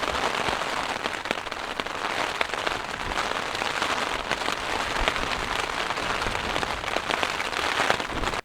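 Rain pours at night onto a desert hiking trail in Arizona, a dense, continuous patter of drops hitting close surfaces, loud and steady with no voices.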